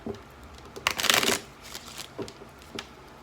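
A short burst of tarot cards being riffled and shuffled close by, a crisp rustling flurry followed by a few lighter taps and flicks.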